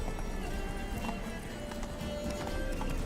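A horse gallops in The Witcher 3 with quick, steady hoofbeats close by over a low rumble of game music and ambience.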